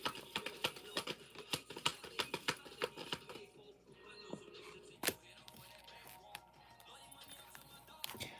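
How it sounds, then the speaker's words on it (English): Tarot cards being shuffled during a live reading: a quick run of soft papery riffles and taps in the first few seconds, then quieter handling with one sharper snap near the middle, close and fairly faint. "Last shuffle."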